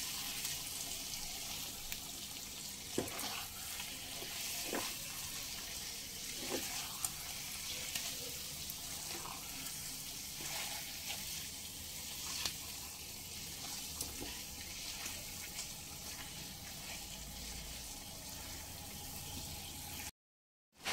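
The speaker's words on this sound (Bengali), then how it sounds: "এই সমস্ত মশলার সঙ্গে আলুগুলোকে দিয়ে 1 মিনিট মতো কষিয়ে নেব" Fried potatoes are stirred with spices in a pan over a low flame for Kashmiri dum aloo, giving a soft, constant sizzle broken by occasional light scrapes and clicks, faint and steady throughout.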